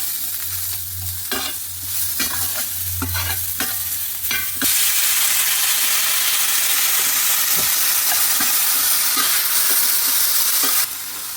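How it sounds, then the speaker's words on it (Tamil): Onions sizzle and fry in hot oil with urad dal and asafoetida, with scraping stirs and clatters early on, then a loud steady hiss of frying. "உளுத்தம்பருப்பு பெருங்காயம் வெங்காயம் லேசாக வதக்கிக்கோங்க"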